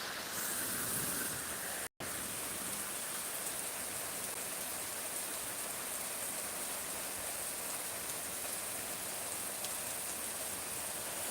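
Heavy monsoon rain pours down over farmland in a dense, unbroken hiss, interrupted only by a brief cut near the two-second mark, with no voices.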